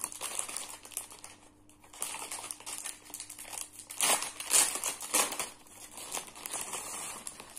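A crinkly plastic package of stickers from a craft subscription box is opened up close. Sharp crackling and rustling come in irregular bursts, louder around the middle, with no talk.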